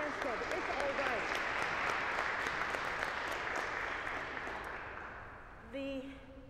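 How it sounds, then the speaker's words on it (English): Worshippers at a Stanford University church service applaud after an anthem, a steady wash of clapping filling the space, with voices and a brief tonal sound near the end. "I just want to give applause for that wonderful anthem, both of them"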